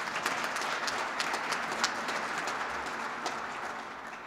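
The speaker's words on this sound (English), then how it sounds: "Let's give them a round of applause." Applause from an audience at a Kentucky community and technical college event, a moderate, steady patter of many hands clapping with a few sharper claps, slowly tapering off.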